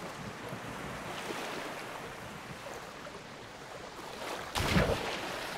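In the Project Castaway survival video game, ocean waves wash against the shore as a steady rushing wash with a wind-like hiss, and one louder surge breaks near the end.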